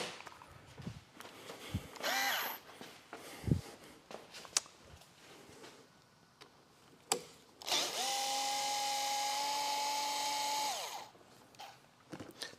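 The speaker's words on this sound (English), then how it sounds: "starting off by removing these two bolts right here" Power tool backing out T27 bolts on the brake of a 2024 Harley-Davidson Road Glide, with short whirring bursts, one long steady whine of about three seconds, and scattered clicks and taps of the tool between runs in a quiet garage.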